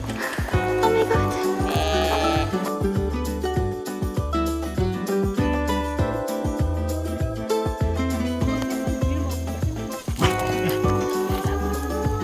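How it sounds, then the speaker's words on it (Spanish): A flock on a sheep farm bleats almost continuously, many overlapping loud, wavering calls close by, forming a dense, busy wall of sound that barely lets up. "En una granja de ovejas."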